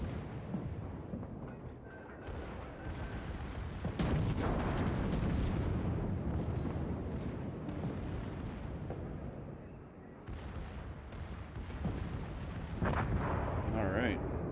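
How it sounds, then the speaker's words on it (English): Secondary guns aboard a warship firing during World of Warships gameplay, a dense, continuous roll of booming gunfire and blasts that swells loud and stays heavy throughout, with a voice speaking over it. "My secondary guns are shooting at it now."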